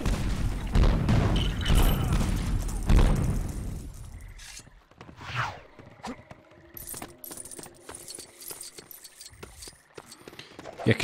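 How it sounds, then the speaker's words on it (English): A cannon fires in the Lego Pirates of the Caribbean video game, starting with a loud rumbling boom that fades out. Scattered clinks and clattering of small game objects follow. "a cannon to get into a place is not very quiet"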